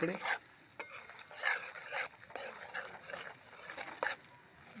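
Gram flour roasts in melted ghee for mohanthal, a soft sizzle broken by repeated stirring scrapes of a spoon against the pan in an uneven rhythm.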